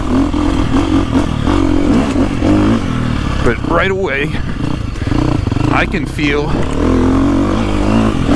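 A 2025 KTM 350XCF Factory Edition dirt bike engine being ridden on wet gravel through the woods at low throttle, a close, loud, uneven rumble with two short revving bursts while a rider talks over it.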